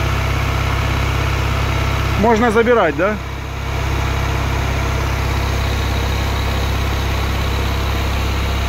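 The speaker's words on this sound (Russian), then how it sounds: "Хорошо работает, мотор отлично работает." A ZAZ Slavuta car engine idles steadily with a low, even rumble throughout, close and loud, while someone speaks briefly over it partway through.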